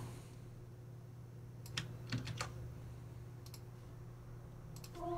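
Computer keyboard keys tapped for paste and dash shortcuts while entering lyrics in notation software: a few quick, light clicks in small clusters against a quiet room hum, with no talking.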